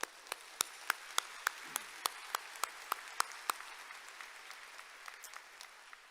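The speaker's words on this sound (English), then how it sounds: "Let's give him a round of applause." Sparse applause at a university commencement ceremony: a steady run of individual claps, fairly faint and distant, thinning out toward the end.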